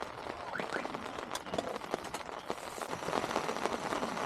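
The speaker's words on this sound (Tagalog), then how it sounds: "narinig naman malakas ang ulan" Heavy rain pours down steadily on a rainy-season campsite, a dense hiss of drops spattering on surfaces, close and continuous with no talking.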